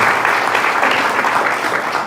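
A church congregation applauds after a Mass, a steady, fairly loud wash of many hands clapping without a break.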